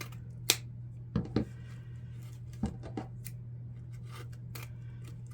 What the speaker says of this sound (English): just run your scissors through those folds to separate out